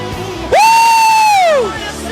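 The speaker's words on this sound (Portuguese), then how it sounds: "Solta o grito de campeão." A church congregation shouting and cheering, carried by one long, loud, sustained cry that holds steady for over a second before falling away.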